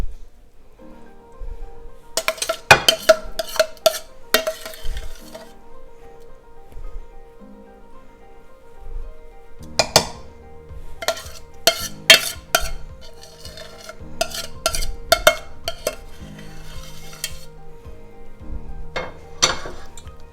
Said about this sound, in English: And then spread it with the back of the spoon.